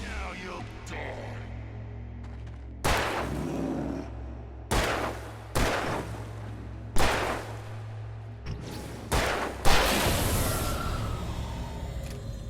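Single heavy gunshots from Alan Wake Remastered boom out one at a time, about six loud, close blasts spaced a second or two apart over a low ambient drone.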